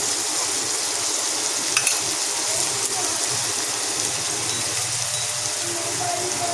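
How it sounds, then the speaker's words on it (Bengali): Half of five chopped onions frying in oil until browned for a red beef bhuna, heard as a steady, close sizzle and hiss with faint stirring scrapes, unbroken throughout and with no talk. "পেঁয়াজটা কিন্তু লাল লাল হয়ে আসছে"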